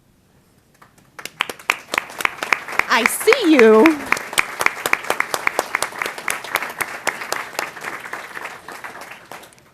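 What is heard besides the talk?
meeting audience applause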